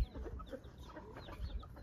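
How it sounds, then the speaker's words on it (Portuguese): A farmyard hen clucking softly near her newly hatched chicks, with scattered low clucks and faint peeping in a quiet outdoor setting. "Uma galinha cocoricando com os pintos novos aqui, ali."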